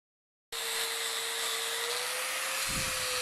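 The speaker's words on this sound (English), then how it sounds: "using a sanding disc on a grinder to make the final finish on it" Steady high-pitched whine of a grinder with a sanding disc finishing a spud made from a spring, running continuously and loud after a sudden start, with a rougher scraping burst near the end.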